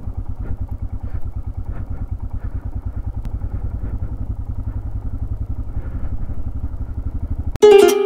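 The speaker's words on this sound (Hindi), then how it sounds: "देख रहे हो कितनी स्लो चल रही है बाइक" A motorcycle engine chugs in a steady, low, rapid beat as the bike rolls slowly over a patch of black ice on a snowy mountain road in Nepal, then a sudden louder burst cuts in at the end.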